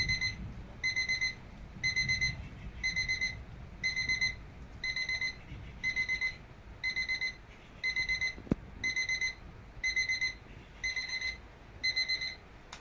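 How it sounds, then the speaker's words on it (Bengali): An alarm clock rings in repeated rapid bursts of shrill beeping, evenly spaced, loud and close, with one sharp knock midway. "অ্যালার্ম সুইচ অন করলাম, কাঁটাটা ঘোরাচ্ছি, দেখুন 3টে অ্যালার্ম বাজছে"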